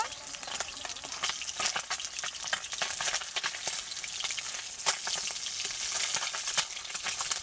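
Pabda fish frying in oil in a pan, a steady crackling sizzle with sharp pops and spits throughout, fairly close and even in level.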